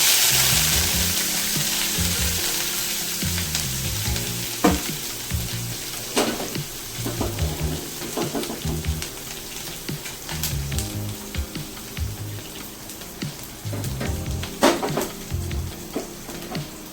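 Steady sizzling and crackling of washed, crushed curry leaves frying in a hot pan, loud and close, with occasional clinks of stirring.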